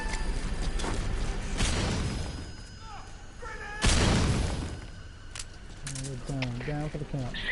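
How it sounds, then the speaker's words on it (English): An explosion in Metal Gear Solid V, a sudden loud broadband burst about halfway through, set among game noise with voices talking before and after. "There was an explosion."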